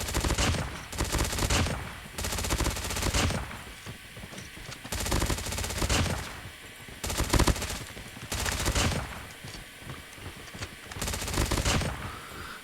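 SMG gunfire from the MSMC in Call of Duty Mobile, with repeated loud bursts of rapid automatic shots a second or two long, separated by short pauses, close and sharp, with no talk.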